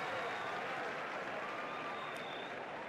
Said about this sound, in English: please, a round of applause for this brave canine performance